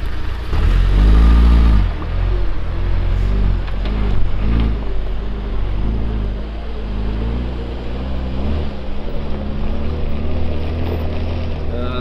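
A stock UAZ Patriot off-road vehicle with a 2.7-litre engine, no locking differentials and grippy tyres roars loudly. Its revs swell and fall early on before settling into a steady drone under heavy wind buffeting.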